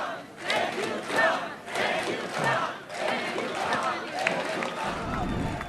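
Jubilant crowd in Israel celebrating the hostage deal, loud cheering and shouting voices massed together in steady waves across the whole stretch, with bursts of excited yelling rising and falling.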